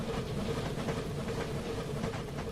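A steam locomotive in the Railworks train simulator chugs along with a continuous rumbling roll, hissing steam and faint rhythmic clatter, steady and fairly loud, with no voices.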